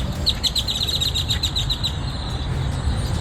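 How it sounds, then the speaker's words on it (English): A large flock of birds fills a parking lot with rapid, high chirps, a quick repeated twittering burst standing out over a constant broad background noise. "birds cover every space"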